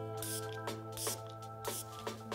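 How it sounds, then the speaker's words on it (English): Milk Hydro Grip setting spray is misted in four short, close hissing spritzes spaced about half a second apart over a faint steady hum. "I'll be grabbing the same Milk Hydro Grip Set and Refresh Setting Spray."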